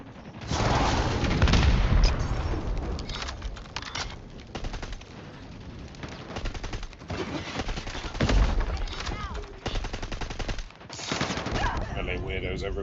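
Rapid gunfire and explosive bursts from an airstrike in an online shooter video game, dense and continuous, with a player's voice talking over the clatter.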